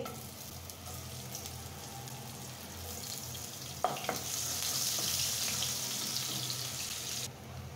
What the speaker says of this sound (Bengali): এখন তেলের মধ্যে আমি পেঁয়াজ কুচিটা দিয়ে দিচ্ছি।